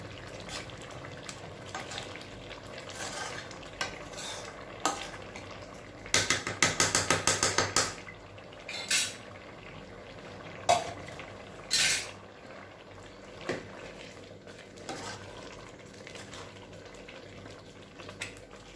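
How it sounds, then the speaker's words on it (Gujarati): A spatula stirs and scrapes carrot halwa as it thickens in a pan, giving scattered scraping strokes with a few louder rasping bursts over a steady background hiss. "ગાજરનો હલવો નીચેથી થોડોક થોડોક ચોટતો હતો એટલે પછી મેં સાબિતું લીધો છે એને સરસ રીતના હલાવવા માટે"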